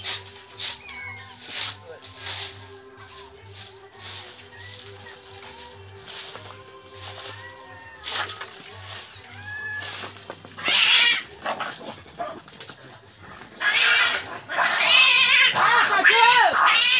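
A cat meows repeatedly, with whiny, drawn-out cries growing louder toward the end, amid background noise and occasional other animal sounds, as a dog fights with it.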